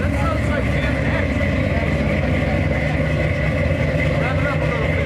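A big block V8 car engine idles with a loud, continuous, lumpy rumble, heard up close with a slight rise in revs. A voice can be heard faintly under the engine.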